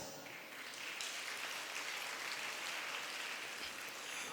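A school annual day audience gives a sustained round of applause for the award winners, dense and steady clapping filling the hall for several seconds.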